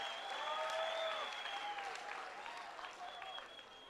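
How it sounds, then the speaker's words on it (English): Walk participants clap for themselves after finishing the Moshoeshoe Walk 2025, a fairly quiet, steady patter of many hands that slowly thins out, with faint voices mixed in. "Let us give ourselves a big hand of applause."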